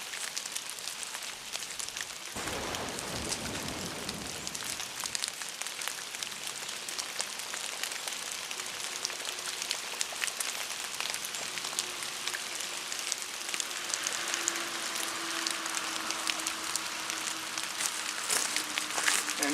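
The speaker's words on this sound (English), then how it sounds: "Yeah, it's raining now." Steady rain falls outdoors at a lakeside cabin on a musky fishing trip, a continuous hiss of drops on surfaces, with a faint low hum partway through.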